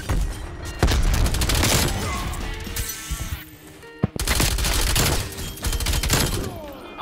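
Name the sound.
SMG gunfire in Black Ops Cold War video game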